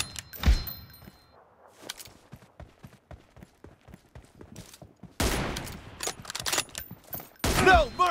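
Gunfire in a shooting video game starts as a sparse series of crisp single shots, then breaks into loud, dense bursts of rapid fire.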